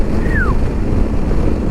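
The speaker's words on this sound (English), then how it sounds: "wow, that's real windy." Steady wind rushes and buffets the microphone with a low, constant roar, and a brief high whistling tone rises and falls early on.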